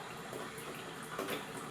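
Tap water runs steadily over a makeup brush as it is soaked, a soft continuous splashing with no talk.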